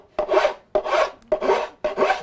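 Wood being rasped or sanded while shaping a song stick: four long, even scraping strokes with short pauses between them, close and clear, with no talking.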